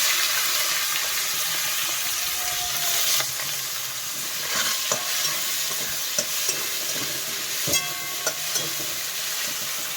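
Onions stirred and fried in a pan give a loud, continuous hissing sizzle, broken by scattered scraping clicks of the utensil against the pan.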